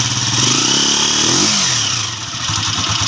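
Motorcycle engine revved hard after a clutch repair, loud and close, its pitch sweeping up and down through a rev then settling into a steady, smooth idle with no talk over it.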